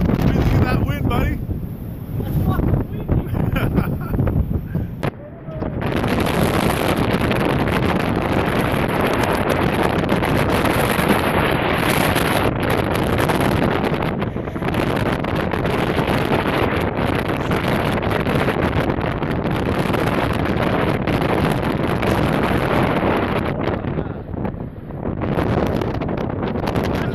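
Strong wind roars across an open ferry deck, a loud, steady buffeting rush hitting the microphone almost continuously, briefly easing near the start before returning at full force.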